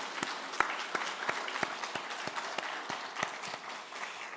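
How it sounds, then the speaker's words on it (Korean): A church congregation claps to bless parents and elders during a Sunday service: scattered, fairly sparse applause with distinct individual claps, steady and moderately close for several seconds. "크게 한번 박수로 한번 축복했으면"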